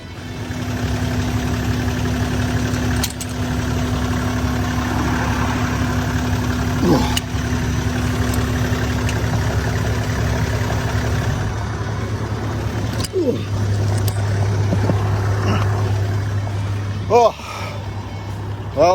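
A car engine idles steadily in the outback at Chinamans Creek, Queensland, a low constant hum under people talking, with a few knocks and clunks near the end.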